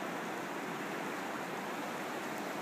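A waterfall by a river pours in a continuous, even hiss of rushing water, moderately distant and unbroken, with no voices.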